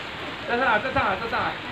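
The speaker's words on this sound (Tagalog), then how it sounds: "Ulan naman." Steady rain patters in a continuous hiss, with a voice briefly speaking over it.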